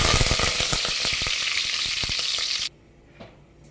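Mustard seeds, cumin and curry leaves sizzle and crackle loudly in hot oil, tempering for avarekalu sambar, with dense popping for over two seconds before the sound abruptly drops to a faint hiss.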